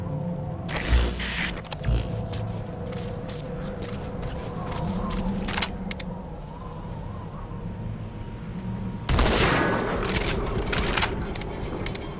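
Metal Gear Solid V: The Phantom Pain plays on PS5 with a short burst of gunfire near the start and a longer loud volley near the end. Low mechanical whirring and faint game tones fill the quieter stretch between them.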